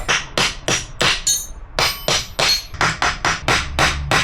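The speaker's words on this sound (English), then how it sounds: "we are gonna need to hammer out these studs from this one" About fifteen rapid, loud hammer blows ring out on metal, hammering steel studs out of a Volvo P2 power steering rack in a quick, steady rhythm, with one brief pause partway through.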